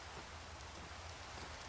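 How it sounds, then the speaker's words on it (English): Steady rain falling in modded Minecraft, a dense continuous hiss of raindrops on surfaces, even and unbroken, with no voices. "Ugh, why does it have to rain?"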